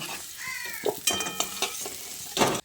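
Potatoes that have been fried red in oil in a kadai during cooking of mochar ghonto, a soft sizzle with a few clinks and scrapes of a spatula against the pan, ending in a louder stir.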